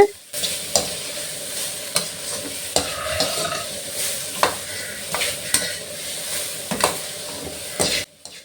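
Banana stem stir-fry with grated coconut sizzles steadily in a pan while a utensil scrapes and stirs in regular strokes, roughly once a second, close by.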